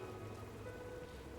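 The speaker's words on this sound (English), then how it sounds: "paying no attention to the rain falling on her" Steady rain in the game Rain98 falls in an even, soft hiss of drops on surfaces, faint and unbroken, with no voices.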